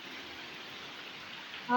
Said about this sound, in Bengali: দেখুন বাইরে অনেক বাতাস